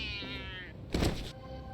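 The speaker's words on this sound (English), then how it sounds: "Kitty not happy." A cat in the video game Lost Judgment lets out a single short, high meow. A dull thump and a brief burst of noise follow it at low volume.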